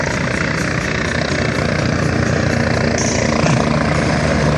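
The Red Bull helicopter at the Camarillo air show roars close and loud with a continuous, steady rotor and turbine drone as it hovers in to set down on a trailer.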